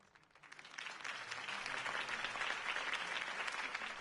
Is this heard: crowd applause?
yes